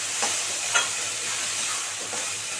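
Ground spice paste stir-fried in a pan for pineapple chutney, a steady sizzle with a few scraping stirs of a spoon, close and continuous.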